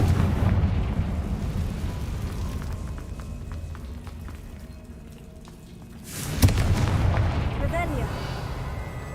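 A Confringo fire spell blasts in Hogwarts Legacy, a dense, roaring burst of low rumble that swells sharply partway through over steady crackling background noise.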